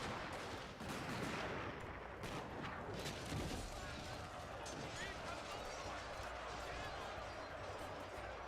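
Gunfire in the video game Total War: Fall of the Samurai, dense crackling volleys of rifle and revolver shots layered over constant battle noise, with in-game voices shouting over it.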